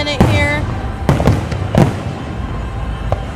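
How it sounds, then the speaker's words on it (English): Fireworks burst at a 4th of July show, three or four loud cracking booms spaced about a second apart with crackling tails, a whistling rise at the start and a fainter pop near the end. "We're going to let these last few fireworks play"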